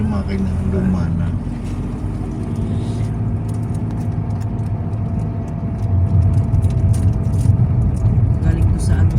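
Jeepney engine laboring uphill on a road in Nagcarlan, Laguna, a steady low rumble that swells louder toward the end, with people talking over it throughout.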